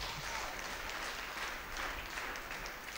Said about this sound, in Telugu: చప్పట్లు కొట్టాలి గట్టిగా